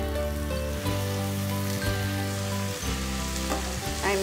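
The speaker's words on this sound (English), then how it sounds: "I mix it well." Diced tomatoes and onions for pav bhaji fry loudly in a pan, a dense continuous sizzle broken by a few soft stirring strokes at roughly one-second intervals, close and without talk.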